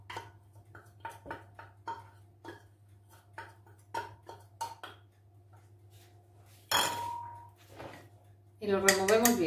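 A spoon clinks rapidly against a glass while cornstarch is stirred into milk for a custard filling, light tapping clatter with a louder scrape and a brief voice near the end.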